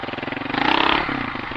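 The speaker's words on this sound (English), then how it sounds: "Just spun the tire." A Kawasaki KLR650 dual-sport motorcycle revs hard on a dirt trail at Bulldog Canyon as its rear tire spins, giving a loud, close, rising engine roar that swells and then eases, with no talk.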